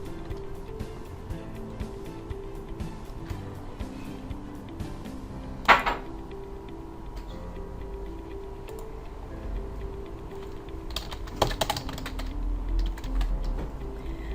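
Computer keyboard typing a database name, a steady run of soft, close key clicks with a couple of louder taps, no voices.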